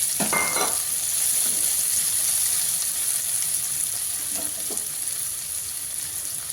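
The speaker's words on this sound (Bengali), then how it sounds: "এবার কড়াইতে দিয়ে দেবো পেঁয়াজ কুচি" Chopped onion hits hot oil in a wok and gives a loud, steady sizzle with a burst of bubbling at the start and a few stirring scrapes.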